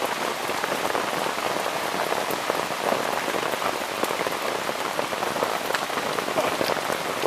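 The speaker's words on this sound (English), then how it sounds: "proper raining. Love a thunderstorm." Heavy thunderstorm rain pelts a teepee in a dense, steady hiss of countless drops drumming on the canvas, loud and close throughout with no talking.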